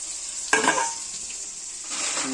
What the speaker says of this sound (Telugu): దెన్ కొన్ని మిరియాలు వేస్తున్నాను. బాగా ఫ్రై అవుతున్నాయండి.